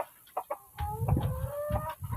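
Light Sussex chickens cluck and call in a pen, a rooster among them, with several short clucks and a drawn-out crowing call, close and fairly loud.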